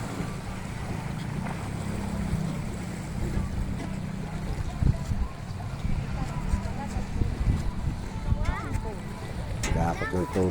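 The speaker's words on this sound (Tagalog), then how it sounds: "Fishing boat." A fishing boat out on open water, its low steady rumble carried under wind and lapping waves while people chat nearby throughout.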